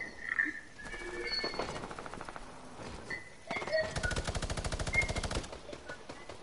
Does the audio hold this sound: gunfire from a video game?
yes